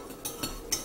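Lemon ginger tea stirred in a cup, giving three quiet clinks of a spoon against the side, spaced unevenly over a faint background hush.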